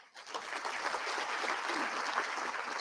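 Audience applause for a string quartet from a music academy at a county address event: steady, dense clapping from a large room that swells quickly and holds at a full level throughout.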